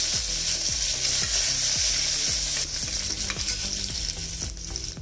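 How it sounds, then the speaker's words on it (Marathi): Asafoetida, mustard seeds and curry leaves hit hot oil for sambhar, a loud, continuous close-up sizzle and crackle with a steady series of low thumps from stirring, no voices. "पाव चमचा मोहरी घालायची, कढीपत्ता घालायचा"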